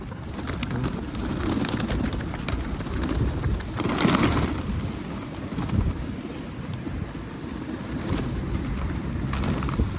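Wild pigeons coo and flutter amid wind buffeting the microphone, a busy outdoor bird scene with steady background noise.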